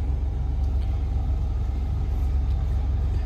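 A car idles and rolls slowly while parking near a crowded fort on the Konkan coast on a busy Sunday, a steady low engine rumble holding close throughout with no breaks.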